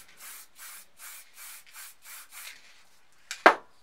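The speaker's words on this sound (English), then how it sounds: "and spray a bit at the bottom" A spray paint can laying down dark red paint at the bottom of a palm tree painting: a series of about seven short, evenly spaced hissing bursts, followed by a louder sharp knock or tap near the end.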